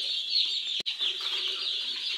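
Baby chicks in a brooder peep steadily in a high, continuous chorus, close and fairly loud, with a brief dropout near the start and no talking.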